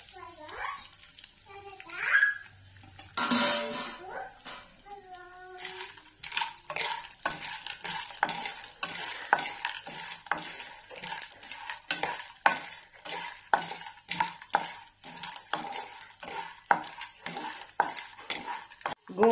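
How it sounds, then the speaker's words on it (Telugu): Gond (edible gum) fries in hot ghee in a pan, with gentle sizzling and repeated scraping stirs of a spoon against the pan in an uneven rhythm; someone speaks briefly at the start. "గోందని ఇట్లా ఫ్రై చేసుకోవాలి"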